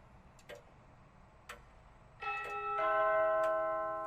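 A two-tone doorbell chime rings out, its bright tones overlapping and lingering, after a couple of faint ticks in a quiet room.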